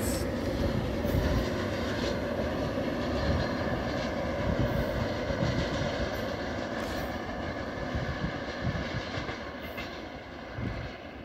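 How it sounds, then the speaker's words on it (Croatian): Slovenian Railways locomotive 664-105 hauling a freight train from Pančevo, a continuous low diesel rumble with faint wheel clatter that holds steady throughout, moderately distant and unbroken by voices. "To je bila lokomotiva slovenskih železnica koja je u zakupu u kompanije Srbija Cargo 66405"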